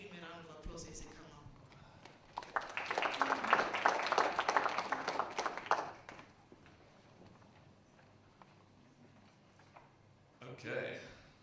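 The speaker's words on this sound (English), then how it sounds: "Please give him a round of applause as he comes" A conference audience on the blockchain circuit claps for speaker Andy as he comes to the stage: a dense, fairly loud burst of applause swells after a brief intro and fades within a few seconds, then a voice speaks.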